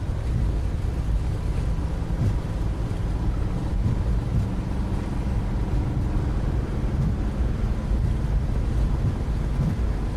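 Boeing 737 MAX engines at takeoff thrust in Microsoft Flight Simulator produce a constant, loud, rushing roar with a deep rumble, unchanging throughout and without voices.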